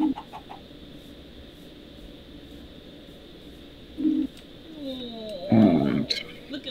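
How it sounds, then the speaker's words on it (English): Chickens clucking in a video game, likely Minecraft: short clucks at the start, around four seconds, and a louder burst near five and a half seconds over a quiet background hum, with players talking. "Look at all those chickens. There's loads of chicken."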